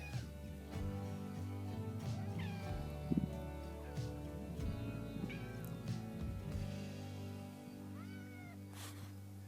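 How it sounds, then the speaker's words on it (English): A cat meows repeatedly, with drawn-out, caterwauling cries heard over a steady low engine drone from a Yanmar YB451 mini excavator working a trench nearby. "I guess Snickers the cat wants to come up here and supervise things"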